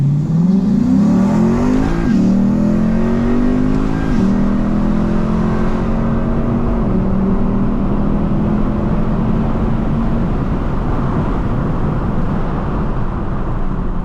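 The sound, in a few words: Lexus IS F launching with traction control off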